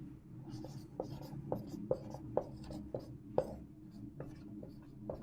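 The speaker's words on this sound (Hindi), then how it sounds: "मैं इधर लिख देता हूं" Marker or chalk strokes on a board during a classroom lecture, a series of sharp scratchy taps and squeaks in an irregular rhythm, close and fairly quiet over low room hum.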